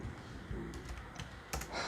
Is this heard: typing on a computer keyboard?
yes